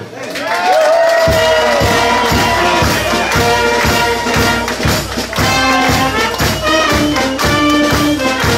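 A carnival crowd applauds and cheers at the key-handover ceremony in Nederweert as the carnival prince and princess come on stage. The clapping is loud and sustained, mixed with music or a band playing steadily underneath.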